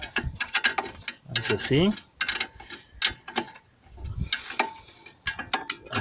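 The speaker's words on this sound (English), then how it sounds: "So I open here and fasten these bolts with my tools" Ratchet tool clicking while fastening bolts on a car's constant velocity joint, close and in quick bursts of ticking pawl strokes with short pauses, mixed under someone talking.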